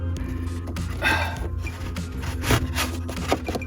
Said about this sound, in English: adding the new hose back. Just kind of push it into place.